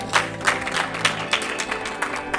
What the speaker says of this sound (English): Can we clap hands for Jesus?